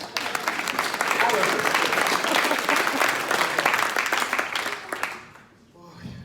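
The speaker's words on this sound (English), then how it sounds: "Let's give Otis a big round of applause" A conference audience at an entrepreneurs' event applauds Otis with a big, dense burst of clapping that swells, holds, then fades away near the end.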